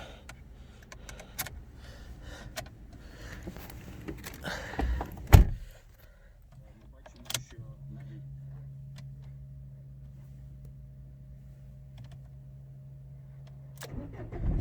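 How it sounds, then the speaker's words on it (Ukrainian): A Renault Logan engine cranks and catches, then settles into a steady low idle hum that runs for several seconds before other noise returns. "Автомобіль заводиться без проблем з півоборота, ніяких помилок по ньому немає. Працює рівно, стабільно, справно, тихо."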